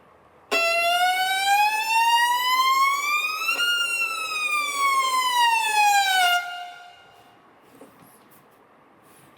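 Loud, dissonant fortissimo music wailing like a siren: one sustained tone sweeping upward, then sliding back down for about six seconds before cutting off abruptly.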